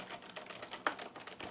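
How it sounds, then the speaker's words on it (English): Fast typing on a regular computer keyboard: a close, steady clatter of keystrokes with one sharper, louder key strike partway through. "this is what my regular keyboard sounds like"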